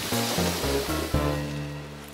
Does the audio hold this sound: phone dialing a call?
no